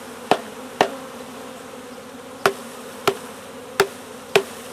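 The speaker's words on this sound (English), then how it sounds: "Now there's a bunch of bees flying around your head." Honey bees buzzing around a hive while a package is installed, a low steady hum under six sharp knocks or taps spaced irregularly, close by with no talking.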